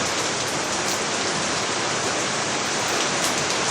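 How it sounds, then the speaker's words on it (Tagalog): Heavy rain from a typhoon pours steadily, a dense, loud hiss of water drumming on surfaces with no pauses and no voices. "Malakas ang ulan"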